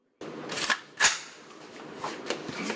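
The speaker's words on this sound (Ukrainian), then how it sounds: "Стріляли ветерани із різної зброї та переважно пістолети типу глок." A handful of Glock-type pistol shots crack at irregular intervals during a shooting competition, sharp but somewhat distant and muffled, with faint background noise between them.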